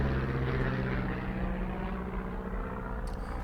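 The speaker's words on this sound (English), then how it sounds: "Oh, I hear a plane." An airplane flies overhead above a forest where fire is feared, its steady propeller drone droning loud and continuous with a faint fade near the end.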